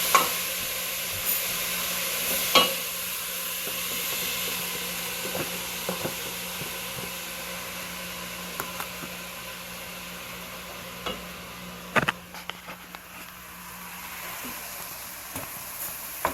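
Minced mushrooms and a minced onion sizzle steadily in a pan while being stirred to brown, with a soft continuous frying hiss and occasional scrapes and clicks of the spoon against the pan. No one talks.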